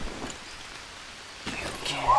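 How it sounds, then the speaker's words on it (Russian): Steady rain falls in the jungle survival game Green Hell, a soft continuous patter that stays faint and even while someone talks over it. "потому что идет дождь"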